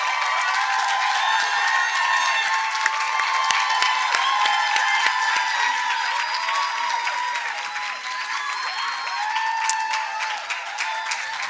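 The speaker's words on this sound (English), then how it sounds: "Also clap hands for yourself for being here" Students and attendees at a women's empowerment conference break into sustained applause, a dense crowd of clapping hands filling the hall steadily and evenly for over ten seconds without any speech on top.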